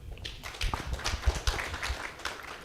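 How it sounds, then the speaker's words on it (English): An audience at a health-tech investor summit in Africa claps for a speaker, a dense patter of many hands that swells briefly and stays moderately loud throughout. "A round of applause for Steve"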